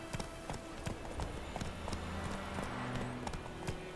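Horse hooves clip-clop at a steady riding gait in The Witcher 3: Wild Hunt, a quick, continuous rhythm of sharp hoof strikes over a low game ambience, close and fairly loud, with a faint voice behind it.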